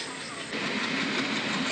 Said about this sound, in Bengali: ট্রেন ছেড়ে দিয়েছে রাজা ভাতখাওয়া থেকে